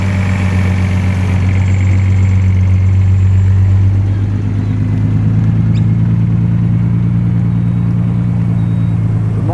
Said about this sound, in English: The nice soft burble of the V8.